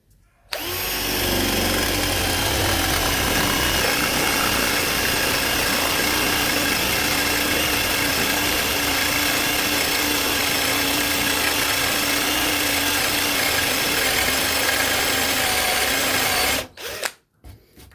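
A Dongcheng DCJZ1202i cordless drill bores a shallow hole for door installation, its motor whirring at a steady, loud, continuous pitch for about sixteen seconds before stopping abruptly.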